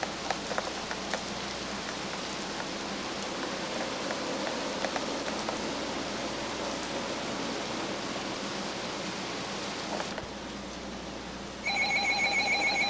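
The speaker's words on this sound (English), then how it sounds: "there's our special weather statement. It's coming in the radio." A weather radio sounds its alert tone for a special weather statement: a steady, rain-like hiss fills most of the stretch, then a loud, sustained electronic tone with clear harmonics cuts in near the end.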